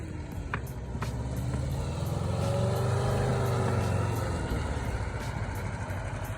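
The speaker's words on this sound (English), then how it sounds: "It's a sweet little bus coming through." A small bus rolls past on a street, its engine rumbling low and steady as it swells and fades over several seconds, with traffic noise around it.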